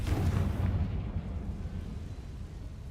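A fiery Confringo spell blast in Hogwarts Legacy erupts as a loud, close boom at the start, then rumbles and fades over a few seconds with no voices.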